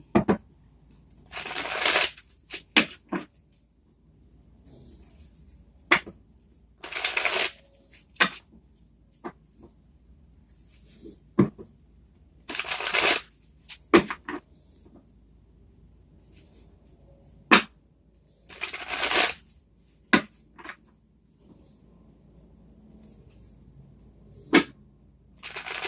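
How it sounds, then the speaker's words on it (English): Tarot cards shuffled by hand in repeated bursts of riffling, each a few seconds long and separated by quiet pauses with small taps and handling noises. "They shuffle better this way."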